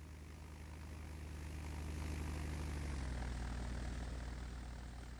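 A small propeller aircraft drones steadily on final approach in a flight simulator, its engine hum loud and continuous with a slight swell and pitch shift midway; no speech.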